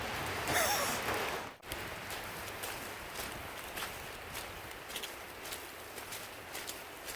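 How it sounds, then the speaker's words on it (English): Steady rain falls through a winter forest in Uwharrie National Forest during a backpacking hike, a dense even hiss with soft scattered patter and crunching footsteps, with no talking. "In the rain."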